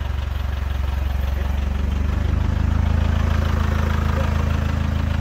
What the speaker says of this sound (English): Sounds like there might be a slight exhaust blow at the front